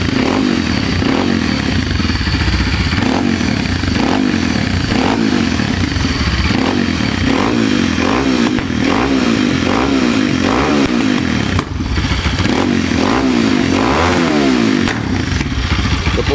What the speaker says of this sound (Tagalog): So yan yung tunog ng KLX 230 RS.